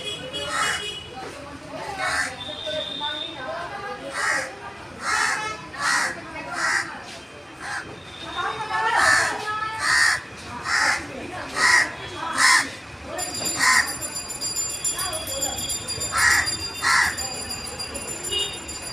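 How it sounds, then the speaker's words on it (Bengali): Crow cawing over and over near a house doorway, harsh calls in short bursts spaced a second or two apart, fairly close and loud, with a steady background hum and some faint voices. "আপনারা কি বলতে পারবে কাক কেন এরকমভাবে ডাকে এত"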